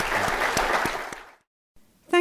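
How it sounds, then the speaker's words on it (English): Audience applause at the close of a formal policy conversation with Iraq's deputy prime minister and foreign minister, a dense burst of clapping that fades out after about a second and a half, followed by quiet. "join me in a round of applause for His Excellency for a candid discussion"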